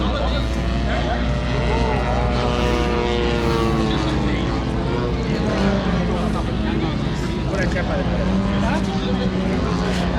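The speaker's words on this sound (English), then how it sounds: "Now I'm going to check some RC aircraft or remote control modeling aircraft." Remote-control model propeller airplanes flying at an RC aircraft display at Ellington Airport, Houston, with a steady buzzing engine drone rising and falling in pitch as the planes pass, loud and continuous throughout.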